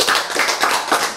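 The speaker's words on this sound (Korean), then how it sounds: "박수!" Short burst of audience clapping at a lecture, a few rhythmic hand claps close and fairly loud, with no talking.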